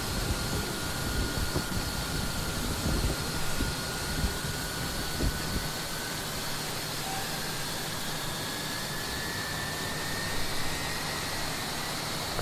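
Boeing 757 engine spooling up in X-Plane 11 with an FF757 engine mod, a steady jet whine with a slowly rising tone over a low rumble, at moderate level with no talk.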